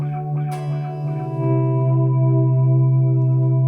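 A sustained electric guitar tone swells in through a volume pedal with echoing delay and reverb, a bright attack early on before the note settles into a long, even ringing hum.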